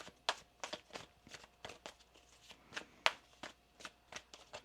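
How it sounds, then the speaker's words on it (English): A deck of tarot cards being shuffled by hand, a quick series of crisp riffling snaps and soft slaps repeating irregularly, close but fairly quiet, with no talk over it. "One more shuffle."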